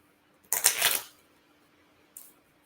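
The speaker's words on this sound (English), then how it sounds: "then we'll shuffle the deck up" A deck of board-game cards riffled once in a quick, crisp close-up burst of about half a second, then a brief softer second flutter, with no talking.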